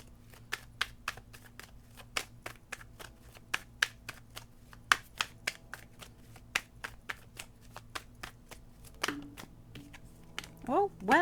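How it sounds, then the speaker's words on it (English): Tarot cards are shuffled and drawn by hand, giving a quick series of crisp, close card snaps and riffles at an irregular pace, with a softer fluttering flurry at the end. "Let's get you a couple more cards here."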